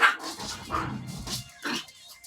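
A dog gives several sharp, close barks and yips in uneven bursts, with short pauses between them.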